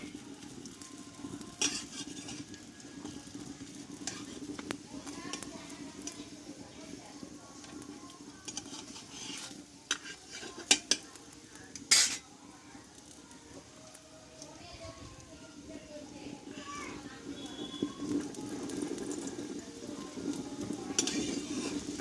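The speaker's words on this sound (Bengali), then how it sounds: "এই পরোটাগুলো কিন্তু খুব অল্প তেলেই কিন্তু ভাজা হয়ে যাবে" Sattu paratha frying in a little oil on a pan, a faint continuous sizzle with occasional spatula scrapes and taps, and someone talking at times.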